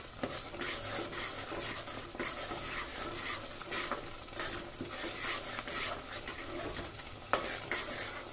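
Kidney bean curry sizzles and fries in a pan as a spoon stirs it, steady close hissing broken by repeated scraping and clinks of utensil against metal, no voices.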